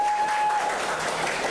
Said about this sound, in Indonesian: Kita tepuk tangan lagi.